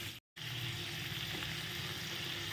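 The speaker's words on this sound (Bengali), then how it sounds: "আচ্ছা, এর মধ্যে দিয়ে দেবো এবার কিউব করে কেটে রাখা পেঁয়াজ। এগুলো লো ফ্লেমে হতে থাকুক।" Cubed onions sizzle steadily in hot oil over a low flame, a continuous close frying hiss after a brief silent break at the start, with no talking.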